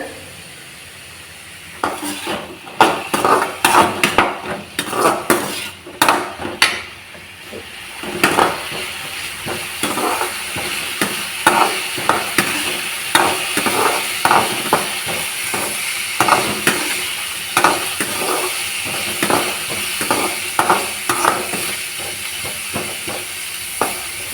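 Vegetables, including radish, stirred into a simmering meat curry, with repeated clatters and scrapes of a utensil against the pot over a soft hiss and sizzle, irregular and close, no talking.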